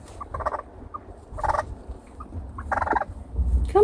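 Two small broody pet hens squabble over eggs, letting out short, close clucking and grumbling bursts in irregular spurts over a low, faint background.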